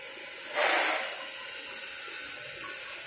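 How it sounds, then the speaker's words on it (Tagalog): Chicken dropped into hot oil in a home kitchen gives a sudden loud sizzling burst that fades within half a second into a steady, softer frying hiss. "ipiprito ko na to"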